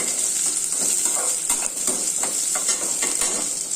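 Dried curry leaves crackle and sizzle in hot oil in a pan, a steady close hiss with light stirring scrapes throughout, no voices.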